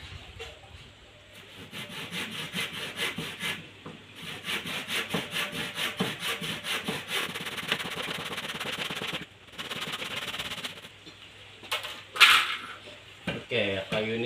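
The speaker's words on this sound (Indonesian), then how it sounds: "Oke, kayu ini sudah siap dipotong" Hand saw cutting through a piece of wood for a new hoe handle: rhythmic back-and-forth rasping strokes, close and loud, pausing briefly between bursts, with scraping and clatter near the end.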